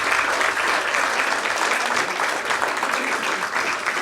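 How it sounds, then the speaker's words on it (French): An audience at an awards ceremony for young leaders applauds the winners with dense, sustained clapping that stays loud and steady throughout. "je crois qu'on peut les applaudir tous bien fort"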